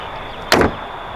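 A single heavy thud as a Corvette hood is slammed shut, one short loud impact against steady background noise.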